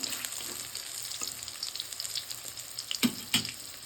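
Mustard flower fritters frying in oil, a faint, steady bubbling sizzle with scattered small pops and a couple of sharper crackles near the end.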